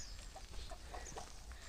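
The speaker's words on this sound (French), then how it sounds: "c'est des poules" Chickens cluck softly in a rural Indonesian setting, a few brief clucks scattered over steady outdoor background noise, faint and somewhat distant.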